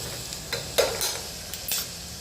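Rice khichdi stirred in a pan after a little salt goes in, with several brisk scraping strokes of a spoon over a low, even sizzle, close by and with no talking.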